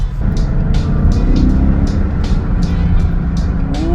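A BMW E39 M5 with a worn, slipping clutch revs loudly under load, its engine note droning and swelling while the car pulls hard and doesn't gain grip, with no talk over it.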